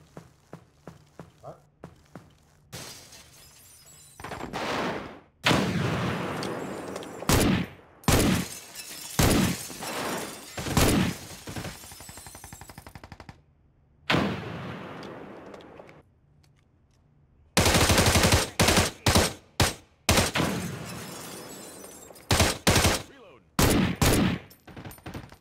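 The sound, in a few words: gunfire in the video game America's Army: Proving Grounds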